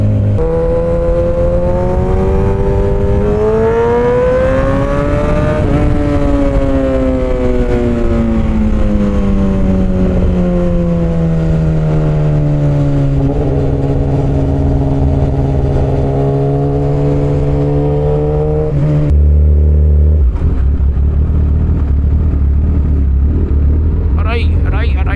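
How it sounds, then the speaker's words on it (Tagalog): A 1000cc motorcycle engine revs steadily while being ridden, its loud droning pitch rising, dipping and holding under wind noise, then surging sharply near the end. "Grabe itong motor na to."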